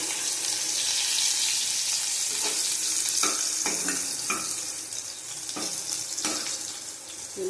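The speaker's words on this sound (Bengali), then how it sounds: "ভালো করে ভেজে নিতে হবে নরম নরম করে" Vegetables fry in a pan until soft, a steady, moderately loud hiss with several sharp scraping knocks of a spatula stirring them partway through.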